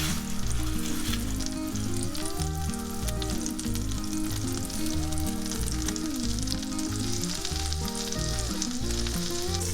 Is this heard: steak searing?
yes